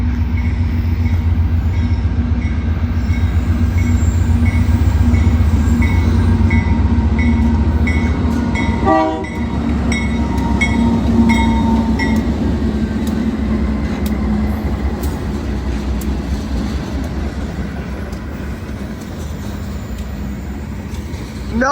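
Freight train with a trailing BC Rail locomotive rolls past, a loud continuous rumble of wheels and cars with steady rail clatter and a brief squeal partway through, close and unbroken throughout.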